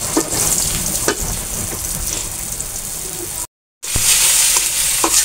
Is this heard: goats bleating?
no